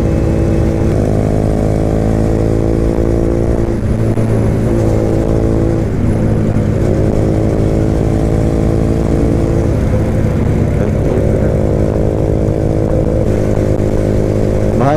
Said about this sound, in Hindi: मैं जा रहा हूँ मेरा KTM में, आगे बाप भैया जा रहा है हार्ली में, पीछे गौरव भैया है बुलेट में